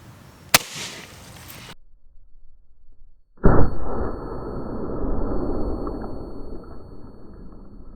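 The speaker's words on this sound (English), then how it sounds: "we're gonna point blank shoot this gallon here" A double-barrel big-bore airgun fires point blank into a plastic gallon jug: a sharp metallic crack early, a silent gap, then a loud second blast followed by a long hissing rush of air.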